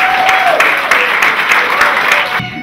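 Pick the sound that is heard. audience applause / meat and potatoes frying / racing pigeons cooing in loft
audience applause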